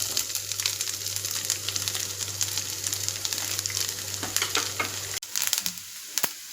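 Grated coconut fries in hot coconut oil in a pan for a fish curry, giving a steady close sizzle with light stirring; it cuts out briefly near the end before a few scraping stirs resume.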